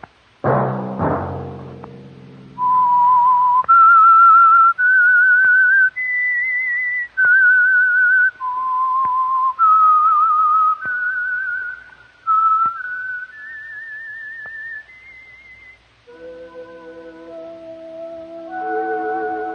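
A clear, solo whistled melody of sustained notes rising and falling, the theme of the radio program The Whistler, following a short burst of orchestral music at the start.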